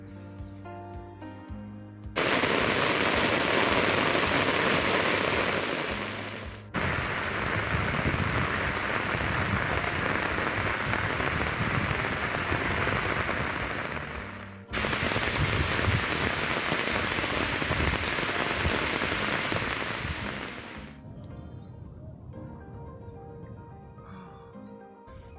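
Steady heavy rain falls in the Bogor Botanical Garden in Indonesia, a dense, continuous hiss of drops on surfaces that swells loudly in long stretches with brief dips, then eases to a softer patter near the end.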